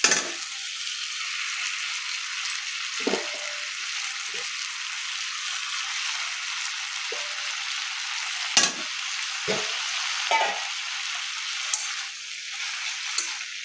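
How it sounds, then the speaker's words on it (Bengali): Spinach goes into a pan of simmering winter vegetables, with bori, black cumin and green chili, frying in oil: a strong, continuous close sizzle broken by a handful of sharp spatula scrapes and knocks against the pan. "এবার আমি পালং শাকগুলো দিয়ে দেবো।"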